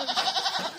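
Goats on a farm let out a close, wavering bleat that pulses rapidly for under a second.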